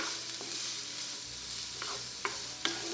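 Chopped onions with a generous pinch of salt frying in olive oil in a skillet, a soft steady sizzle with a few scrapes and clicks of a utensil stirring, close and quiet with no talking.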